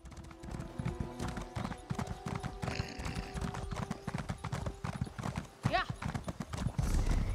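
Steady hoofbeats of a horse ridden as a mount in a fantasy video game with dragons, Imperials and Khajiit clop rapidly and continuously at close range, with a brief whinny-like cry and someone talking over them.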